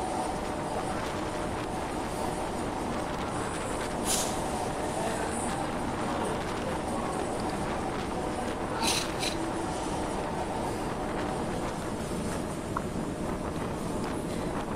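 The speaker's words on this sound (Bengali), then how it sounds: "ট্রেনটা স্লো মৌসুমে যাচ্ছে, স্লো গতি, ধীরে ধীরে যাচ্ছে" A train rolls slowly toward Mawa station in Dhaka, its steady broadband rumble and wind noise continuous and fairly loud throughout, with a few brief higher screeches or clanks standing out now and then.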